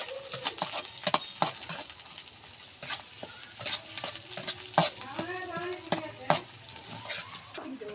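Cumin, chopped garlic, onion and green chili fry in hot oil, a busy sizzle broken by repeated sharp scrapes and clinks of a spoon stirring the pan, close and fairly loud throughout.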